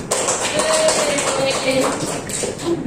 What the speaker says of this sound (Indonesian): Tepuk tangan dulu untuk Eji